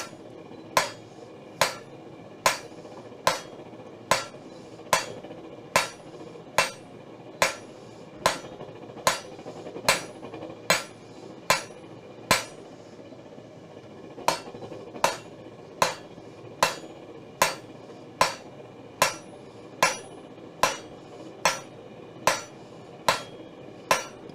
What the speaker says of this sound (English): giving some really big hammer blows